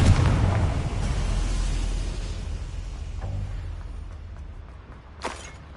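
The Confringo fire spell in Hogwarts Legacy bursts into a loud, rumbling explosion that fades away over several seconds, followed by a small sharp pop, with no speech.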